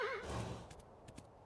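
A horse in a video game gives a short, high whinny, close and clear, followed by a few soft hoof clops.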